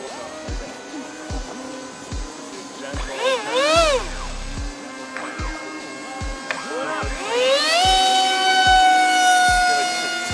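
A model MF-15 Eagle jet engine spools up as throttle increases, its whining tone rising in pitch over a steady rhythmic ticking, close and fairly loud.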